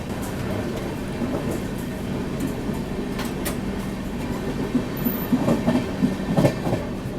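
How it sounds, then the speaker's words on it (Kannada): Ganganagar–Tiruchirapalli Humsafar Express running on Western Railways, a steady loud rumble with rhythmic clickety-clack of wheels and occasional squeal, continuous throughout. "ಗಂಗಾನಗರ ತಿರುಚಿರಪಲ್ಲಿ ಹಮ್ಸಫರ್ ಎಕ್ಸ್ಪ್ರೆಸ್ ಈಗ ಎಂಟ್ರ್ ಆಗೈತೆ ರೀ"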